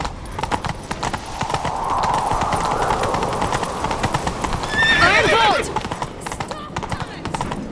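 Horse hooves galloping in rhythmic clip-clop from The Witcher 3, with a loud whinny partway through, while voices speak over the riding.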